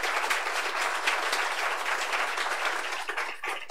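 An audience at the Brazilian Academy of Sciences applauds a speech, steady hall-wide clapping that carries on evenly for several seconds before starting to thin out.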